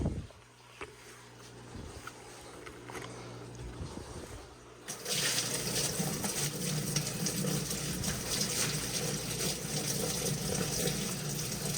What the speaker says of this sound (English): we're gonna pour the water onto it